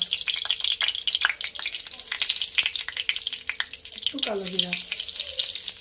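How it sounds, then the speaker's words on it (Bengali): Nigella seeds hit hot oil for a Bengali tempering while bethua greens are being cooked. A continuous close sizzle with scattered crackles runs under the clip, with a brief tonal scrape near the end. "দিয়ে দেব ফোড়নে একটু কালো জিরা"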